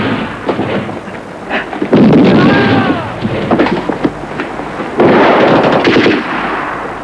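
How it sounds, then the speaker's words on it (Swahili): Bursts of rapid automatic gunfire from a film battle scene crackle loudly, rising and falling in intensity, with shouting voices mixed in amid the firing. "Wanapiga risasi na kwenda na mtu."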